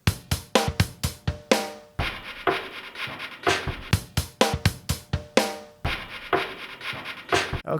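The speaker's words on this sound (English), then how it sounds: "So all the sounds you're hearing are now coming from the structure-free sampler." Sampled hits triggered from a MIDI track in the Structure Free sampler in Pro Tools, with sharp percussive transients landing in a steady rhythm, several per second, some decaying with ringing tones, loud and close with no talk.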